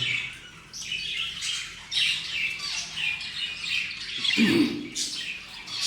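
Several birds on a bird farm squawk and chirp in overlapping bursts, close and fairly loud, with one harsher, lower call near the end.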